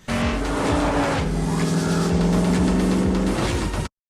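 A car engine from a Furious 7 movie scene, sounding like steady cruising around 3,000 RPM, drones loud and continuous with tire squeal and skidding layered in before cutting off abruptly near the end.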